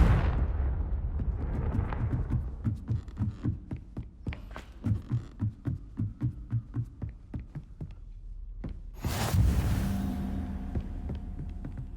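In the Hogwarts Legacy video game, a Confringo fire spell sets off a deep rumbling blast, followed by a run of rhythmic booming pulses and a final bright burst of crackle.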